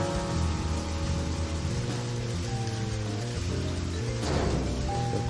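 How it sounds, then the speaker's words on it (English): Steady rain in the video game Deadly Premonition, a continuous hiss lasting throughout beneath layered game music with tonal bands, and a brief louder splash-like burst near the end. "Why is it raining so much?"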